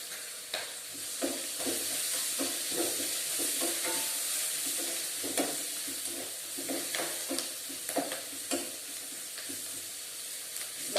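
Onions or masala frying with turmeric for a quick poori curry, a steady sizzling hiss broken by repeated scraping stirs of a spoon in the pan.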